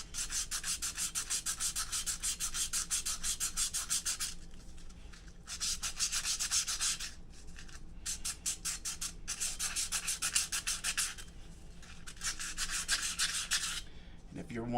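Sandpaper, 120 grit, scrubbing the inside of a Hilliard Flame clutch drum to remove buildup; steady rapid back-and-forth rasping in long bursts with short pauses, close and continuous.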